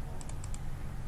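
Four quick, faint keyboard taps during AutoCAD drafting work, sounding alone over a low steady background hum with no talk.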